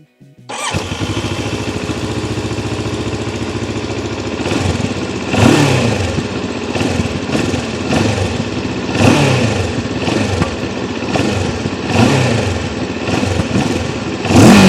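A 2025 Moto Morini X-Cape 650 motorcycle starts up, settles into a loud, close idle, then is revved repeatedly in short, rhythmic throttle blips through the exhaust, with no talk.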